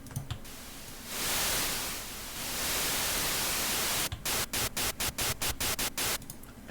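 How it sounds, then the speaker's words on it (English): White noise from a Serum synthesizer plays as a broad, steady hiss that swells and holds, then breaks into rapid rhythmic gated bursts of static near the end. "All you have to do is turn on white noise."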